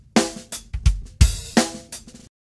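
Short drum loop from a Pro Tools loop library played on its own: punchy kick and snare hits with crisp cymbal wash in a brief repeating groove, up close, ending abruptly.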